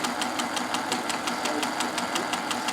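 A Singer 201K sewing machine running at a steady pace, its fast, even ticking stitch rhythm fairly quiet with a slight mechanical shake under the hum.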